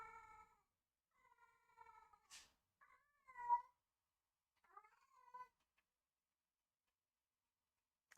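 A cat meows several times indoors, faint and nearby, in short separate calls with quiet gaps between them and some soft clicks.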